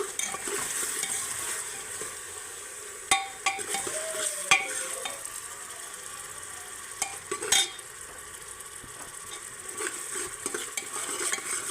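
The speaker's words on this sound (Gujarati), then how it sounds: "હવે આ ટામેટાની પેસ્ટ નાખી દઈશું" Tomato paste goes into a hot pan for a Kathiyawadi green pigeon pea curry and is stirred, giving a low sizzle broken by sharp clinks and scrapes of a spoon against the pan.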